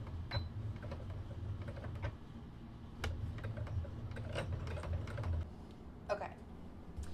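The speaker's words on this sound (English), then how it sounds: "I'm just sewing these 2 tiny little pieces together to start." A home sewing machine stitches two tiny fabric pieces together for a doll apron, with quiet bursts of rapid mechanical ticking, short pauses and faint handling clicks.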